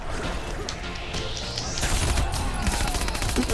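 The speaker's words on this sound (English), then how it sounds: "There's a machine gun here." Rapid machine gun fire rattles in Mortal Kombat 11, dense continuous bursts mixed with crashing impacts that grow heavier partway through, loud and close over the game's noise.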